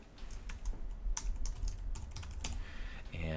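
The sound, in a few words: typing a project name on a computer keyboard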